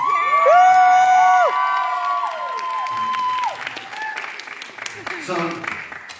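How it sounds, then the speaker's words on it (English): Applause and cheering from the audience at a Kyani launch event, loud at first with whoops and shouts over the clapping, then thinning out as the noise carries on. "So another round of applause."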